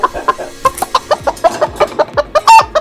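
Rapid, repeated clucking from a cartoon rooster, a steady stream of short bright calls with one louder squawk near the end, no voices.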